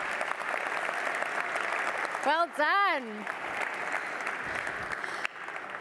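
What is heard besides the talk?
audience applause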